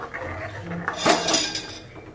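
A spoon stirs buttermilk curry in a metal cooking pot, making brief close scraping and clinking against the sides, with no voices.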